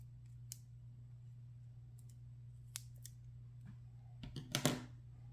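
Scissors trim small peaks off a piece of card stock, giving a few quiet isolated snips and then a short cluster of crisp cuts near the end over a steady low hum.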